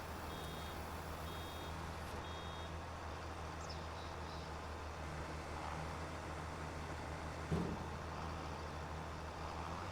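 Truck reversing alarm in Farming Simulator 25, a few evenly spaced electronic beeps over a steady engine hum, then a brief thump near the end.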